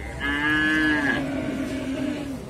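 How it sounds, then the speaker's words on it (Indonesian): A Limousin cow at the Muntilan livestock market in Magelang gives one long, loud, close moo that starts high and drops into a lower drawn-out tone. "sapi limosin"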